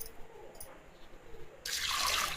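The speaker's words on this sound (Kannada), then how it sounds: "2 ಲೋಟ ನೀರು ಹಾಕಿ" Two glasses of water poured into a pressure cooker with chana dal and salt for sambar, a short, bright splashing gush that starts abruptly after quiet kitchen ambience.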